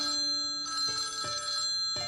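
A mobile phone chimes with a text message notification, a bright repeating electronic tone sounding in short pulses close by, with no talking.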